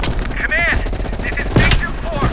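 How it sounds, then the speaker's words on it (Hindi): Gunfire rattles through a Call of Duty Black Ops Cold War battle scene, loud and continuous, with radio-style voices and chirping effects layered over the shooting. "You readied your sniper rifle to assist."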